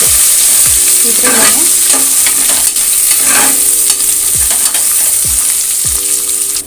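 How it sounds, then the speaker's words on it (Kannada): Onions and green chillies fry in a pan for tomato bath, a steady loud sizzle broken by repeated scraping stirs of a spatula, with no talking. "ಇದು ಈರುಳ್ಳಿ ಎಲ್ಲ ಸ್ವಲ್ಪ ಫ್ರೈ ಆಗಬೇಕು"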